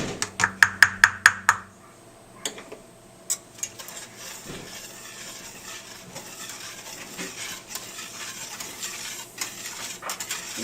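A whisk stirring apple pie filling in a pot, preceded by a quick run of bright metallic clinks and taps; the stirring is faint, steady scraping and swishing close by.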